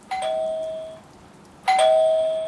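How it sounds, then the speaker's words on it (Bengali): A doorbell chimes twice in a quiet room, each ring a clear ding-dong tone with a lingering decay, the second press coming about a second and a half after the first; no voices. "কলিং বেলটা বেজে ওঠে পরপর দুবার"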